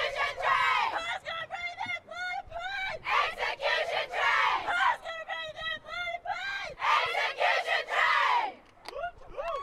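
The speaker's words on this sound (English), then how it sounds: "Very hyped up cheer from execution" A women's team named Execution lets out a hyped-up cheer at a national tournament, loud overlapping yells, screams and whoops from a close group in repeated bursts, dropping off briefly near the end.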